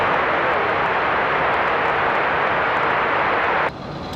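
A jet airliner operated by Endeavor Air roars as it takes off from runway 23 right at Raleigh-Durham International Airport; a steady, broad engine rumble holds and then drops off abruptly near the end.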